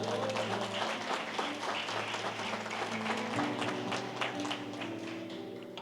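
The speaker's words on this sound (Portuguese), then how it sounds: "você pode aplaudir o Senhor por isso?" A church congregation applauds at a worship service, a dense, moderately loud patter of many hands clapping steadily for several seconds over a faint sustained musical tone.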